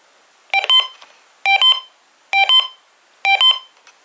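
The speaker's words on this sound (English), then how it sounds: "We all know the sirens." A weather radio gives an alert signal of loud electronic beeps in four evenly spaced clusters, each a quick run of sharp double tones, with no voices.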